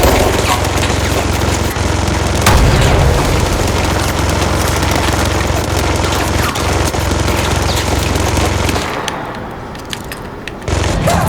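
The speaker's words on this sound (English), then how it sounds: "he's just constantly shooting a minigun" Minigun in the video game Control firing in a dense, unbroken roar of rapid shots for most of the stretch, loud and close, thinning out near the end.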